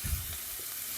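Garlic added to a hot pan with translucent onions for asparagus risotto sizzles steadily and close, a brief soft thump at the start, no voices.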